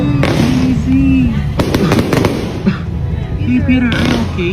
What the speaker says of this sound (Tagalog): Hey, look, guys! Fireworks!